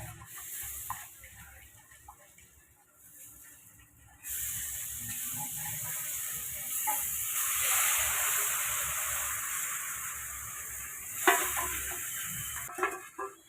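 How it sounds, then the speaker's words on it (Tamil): Halwa and sugar syrup stirred in a hot pan over low heat, giving a steady scraping and sizzling hiss that swells after a few seconds and ends with a couple of sharp utensil clinks. "வச்சு நல்லா இப்படி மிக்ஸ் பண்ணி விடணும்"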